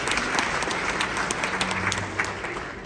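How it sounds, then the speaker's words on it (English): Audience applause at a live magic show, a dense burst of clapping from a crowd, loud and close, lasting a few seconds. "Round of applause for Delaney."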